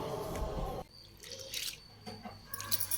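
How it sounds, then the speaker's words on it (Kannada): Water is poured over pigeon peas (toor dal) in a vessel while washing them: a short splashing pour, then scattered faint drips and trickles. "ಬೇಳೆಗೆ ನೀರು ಹಾಕಿ ಒಂದು ಸಲ ಚೆನ್ನಾಗಿ ವಾಶ್ ಮಾಡ್ಕೊಳ್ಬೇಕು."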